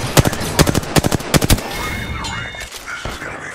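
Rapid bursts of automatic gunfire in a multiplayer shooter game, several tight volleys over the first second and a half, loud and close, followed by quieter game effects and tones.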